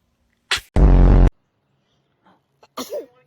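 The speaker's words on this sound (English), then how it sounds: "Oh, you sneezed on me." A baby gives a sharp, close sneeze followed by a short voiced burst, then faint breathing and a small whimpering sound.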